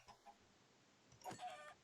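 Faint, brief clucking from a Minecraft chicken: a soft cluck near the start, then a short cluster of clucks toward the end over a quiet background.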